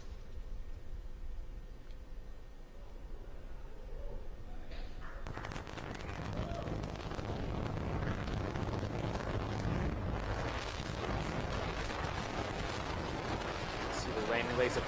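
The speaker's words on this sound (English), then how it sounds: "Landing burn startup. And landing burn has hit startup" SpaceX Falcon first-stage rocket landing burn: a faint hiss gives way to a sudden loud, continuous rumbling roar with crackling, distant and sustained, while a voice talks over it.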